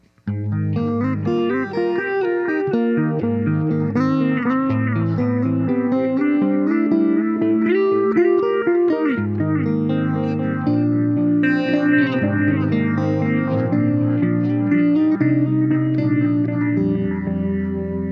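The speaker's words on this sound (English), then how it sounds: "if I put delay on it or echo on it, it's gonna sound much spacier" An electric guitar through a Donner Triple Threat pedal plays a melodic line drenched in echo and delay, notes trailing and repeating into a spacious, washy tail throughout.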